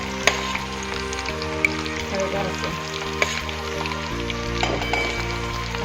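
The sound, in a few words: chicken 65 pieces deep-frying in hot oil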